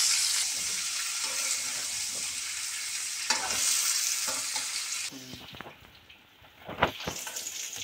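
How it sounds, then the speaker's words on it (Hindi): Jackfruit pieces fry in a pan with a loud, steady sizzle and hiss, broken by a few spatula scrapes and knocks. The frying eases near the end, where clinks and a short splash of water follow. "ये देखिए ये हमारा कटहल जो है वो फ्राई हो गया है"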